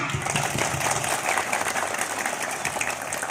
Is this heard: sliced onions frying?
no